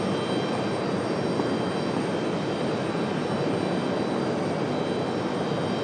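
A JetBlue jet airliner departing Raleigh-Durham airport, a steady broadband engine roar held at constant loudness throughout, moderately distant with no voices.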